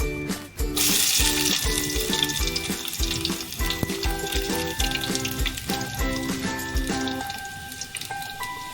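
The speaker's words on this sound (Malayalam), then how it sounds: "അതിനുശേഷം കടുക് എണ്ണ ഒഴിച്ചു കടുകിട്ട് വറ്റൽമുളകിട്ടു ഇനി ഉള്ളി ഇടാൻ പോവുകയാണ്" Mustard seeds and dried red chilies crackling in hot oil, a loud, continuous sizzle with dense popping spatter, close up with no voices.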